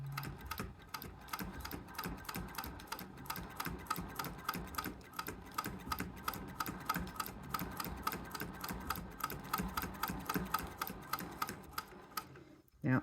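A sewing machine top stitches with a vintage zipper foot, its needle running in a fast, even mechanical rhythm throughout before stopping with a final clunk near the end.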